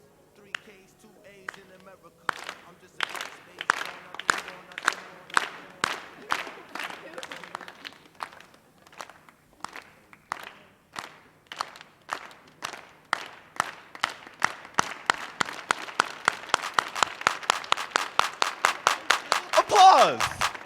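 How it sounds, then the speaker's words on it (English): A crowd at a youth poetry festival performance claps in a steady rhythm that quickens and grows louder, building from sparse claps into dense, fast unison clapping by the end. "Applause!"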